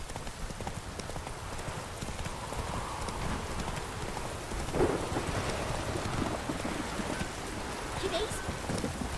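Roach the horse gallops in The Witcher 3, a steady clip-clop of hooves running throughout amid rain and rumbling thunder, with a muffled thud near the middle.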